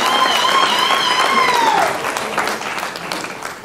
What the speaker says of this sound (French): Acclame très fort Jésus pour Antili.